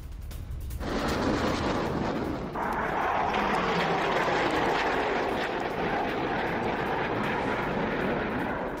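A fighter jet roars loudly and continuously as it flies, rising suddenly to a powerful broadband rush after a quieter opening second and staying intense to the end, with no voices.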